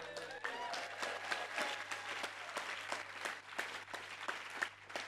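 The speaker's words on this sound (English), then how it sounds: "I want you to cheer loudly if you think that Frank was the wise owl bringing us the goods" A conference audience applauds and cheers in a hall, a steady wash of many hands clapping with scattered whoops, fairly distant and sustained.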